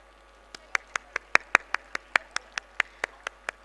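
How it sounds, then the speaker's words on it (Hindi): Audience applause at an award ceremony during a lamp lighting event, heard as a run of about fifteen separate, evenly spaced claps, moderately close and fairly quiet, not a dense ovation. "जोरदार तालियां"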